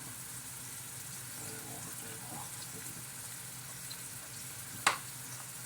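Homemade burger patties frying in a pan, a soft steady sizzle under a faint hum, with a sharp knock near the end.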